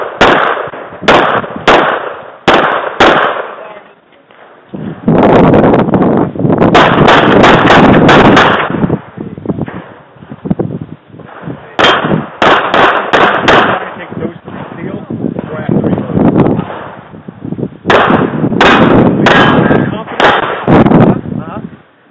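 Pistol shots at a USPSA practical shooting match: several strings of sharp, close gunshots in quick bursts, with short pauses between strings and people talking in the background.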